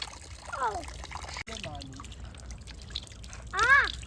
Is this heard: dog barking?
no